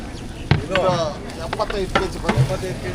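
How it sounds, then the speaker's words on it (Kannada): Pulao cooking in a mix of ghee and oil in a large vessel holding three sacks of rice, with sizzling and scraping stir strokes, some sharp clanks, and voices talking nearby. "ಮೂರು ಮೂಟೆ ರೈಸ್ ಅಂಬಟ್ಟಿ ರೈಸ್ ಹಾಕಿ ಇವಾಗ ಪಲಾವ್ ಹೊಡಿತಾ ಇದ್ದಾರೆ ಮೇಲ್ಗಡೆ ನೋಡ್ಬೋದು ತುಪ್ಪ ಎಣ್ಣೆ ಎರಡು ಮಿಕ್ಸ್ ಮಾಡಿ ಹೊಡ್ತಿದ್ದಾರೆ"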